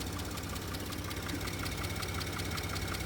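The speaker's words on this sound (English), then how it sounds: "You can only or should hear injector noise, which is not that loud, and this is start becoming like a mechanical noise." A Porsche Cayenne engine idles with a steady mechanical clatter and rapid injector ticking, close up and continuous at an even rhythm.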